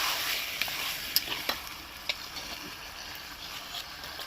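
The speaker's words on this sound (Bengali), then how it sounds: "শুধু এঁচড়গুলোকে এভাবে দিয়ে দেবো আর একটু একটু নেড়ে দেবো" Raw jackfruit pieces fried without water in a pan and stirred now and then, producing a soft steady sizzle broken by a few crisp scraping knocks of the spatula, close and without talk.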